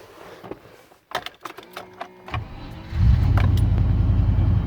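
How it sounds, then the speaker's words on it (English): A 1994 Range Rover cold start: a few clicks and clunks, a brief whirring starter crank, then the engine catches and settles into a loud, steady, close idle. "That was a cold start as well."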